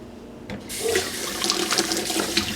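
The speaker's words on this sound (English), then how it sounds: "Rinse our hands real quick." Hands rinsed under a running kitchen tap, water splashing steadily and close, starting after a brief moment and continuing to the end.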